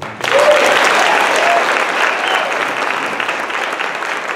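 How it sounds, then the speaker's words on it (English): High school concert audience applauding the school jazz band, loud and close, starting abruptly and holding a steady dense clapping wash with a few cheers, easing slightly toward the end. "how about another round of applause for the Jazz Band?"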